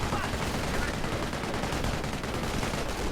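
Machine gun fire from a building in a video game battle, a dense continuous roar of gunfire with overlapping shots and no clear gaps throughout.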